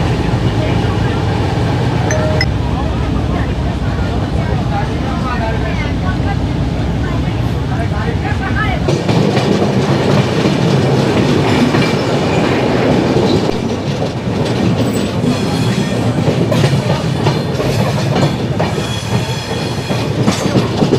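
A passenger train travelling from Anand Vihar toward Moradabad rumbles along with steady rhythmic clickety-clack of wheels over rail joints, heard loudly from inside a coach, with a shift in tone partway through and talking mixed in.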